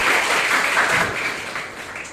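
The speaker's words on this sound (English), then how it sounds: "Shall we all give very big hand clapping?" Loud, dense hand clapping from a college audience at a freshers' workshop, a continuous close-up burst of applause with no pauses.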